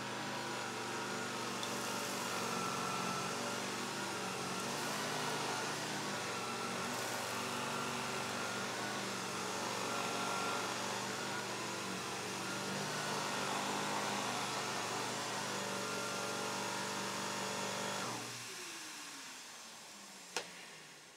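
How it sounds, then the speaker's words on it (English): A loud, steady motor roar of a central vacuum with an ETH power nozzle runs continuously, then drops off abruptly near the end as it shuts down. "So that's my ETH nozzle on the end of a central vacuum. It is quite the beast."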